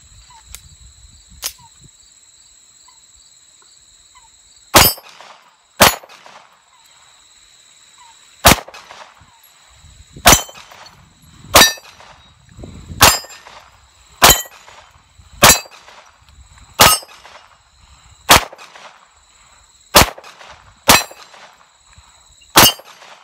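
A Browning FN Hi Power pistol fires at steel plates outdoors, about a dozen loud sharp shots at an uneven pace, each followed by a ringing metallic clang from the plates, with a steady insect chirp throughout.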